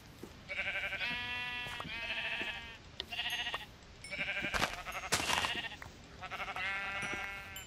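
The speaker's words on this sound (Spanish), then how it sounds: "Ya vi una oveja." Minecraft sheep bleating over and over, a string of about half a dozen nasal, wavering bleats spaced across the stretch, close and clear with a faint game-world hum beneath.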